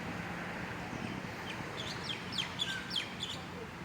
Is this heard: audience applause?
no